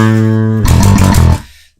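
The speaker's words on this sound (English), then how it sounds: "Dark Glass Ultra, which is a much more subtle distortion." Electric guitar runs through a Darkglass Ultra distortion plugin, playing one loud, sustained distorted note and then a short burst of choppy, gritty chords that cut off abruptly into silence.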